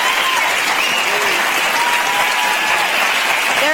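A television studio audience on a morning talk show cheers and applauds continuously, a dense, steady wash of clapping and whoops filling the whole stretch at close, loud level.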